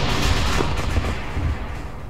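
A single heavy boom from an explosion in the ArmA video game, a dense blast of noise that fades out over about two seconds, with no talk.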